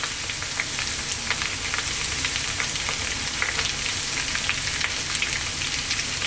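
Onions with salt frying in a pan, a dense continuous crackling sizzle heard up close and fairly loud, with no speech over it.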